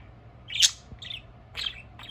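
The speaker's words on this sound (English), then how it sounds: "Cute baby bird." A baby budgie chirps in short, bright bursts, four distinct calls spaced across about two seconds, close and clear with no talking.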